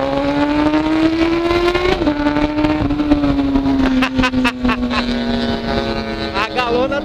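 A Honda Hornet motorcycle revs and accelerates up close, its engine note climbing in harmonic sweeps, alongside a CBX750 and DT200R; a loud, continuous engine roar with pitch rises and dips, with voices talking over it.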